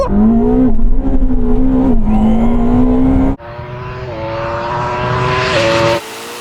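Drag race between a Yamaha R1M superbike, a Porsche Taycan Turbo GT and a Ferrari SF90, with loud engine revving climbing through gears, a sharp shift break midway, then more high revving that cuts off near the end.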